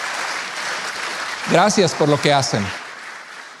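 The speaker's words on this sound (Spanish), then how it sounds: "Un aplauso para nuestros hermanos" Church congregation applauding, a steady wash of clapping from a crowd throughout, while someone speaks briefly over it in the middle.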